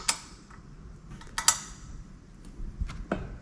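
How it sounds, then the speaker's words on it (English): Tightening the side clamping bolts on an Amtryke tadpole trike with a 5mm Allen key, heard as a few soft, close metallic clicks and creaks scattered over faint room hiss. "we're going to go ahead and tighten the 2 side clamping bolts"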